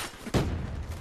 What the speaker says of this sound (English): I'm just gonna waste those last two bullets.